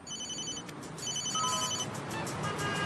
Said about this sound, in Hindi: शायद मुझे मेरे अल्टीमेट सेलफोन को अल्टीमेट वाइब्रेशन मोड पर रखना चाहिए।